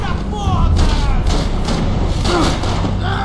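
In the video game Max Payne 3, a heavy elbow-strike thud lands amid loud, dense in-game combat noise, with dull impacts standing out from the rumble.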